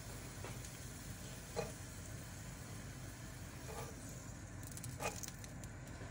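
Garlic slivers and chili pepper browning in hot oil in a pan give a faint, steady sizzle with a few soft pops and stirring scrapes.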